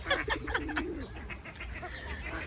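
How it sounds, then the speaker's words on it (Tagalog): Pigeons are fed at Dunedin Botanic Garden, with soft cooing and bird calls up close over a steady outdoor background, most active early and then thinning out. "para sa inyo mga ibon, mga kalapati"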